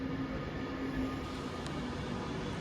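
An Avanti West Coast Class 390 train formed of 11 coaches stands at a station, giving off a steady, even rumble and hum that fills the short stretch without a break.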